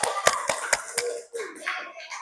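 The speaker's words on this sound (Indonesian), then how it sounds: "Silakan aplaus untuk Eka dulu." Students in an Islamic school classroom clap for a classmate in four sharp, evenly spaced claps, close and fairly loud, followed by soft chatter and shuffling.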